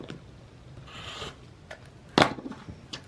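A rotary cutter slices through quilting fabric with a short rasping swish. Softer scraping and handling noises follow, then a sharp click as the blade guard closes, all close up and quiet.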